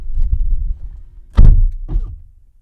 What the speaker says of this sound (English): let's go ahead and shut the door on the Mini.